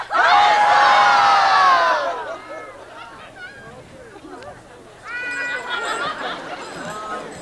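A crowd at a Renaissance-style queen show bursts into a loud cheer, quiets to scattered murmurs and shouts, then cheers again more loosely.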